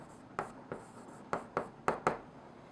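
Pen or marker writing out a calculus derivative: a handful of short, close scratchy strokes in an uneven rhythm, quiet and alone with no talking.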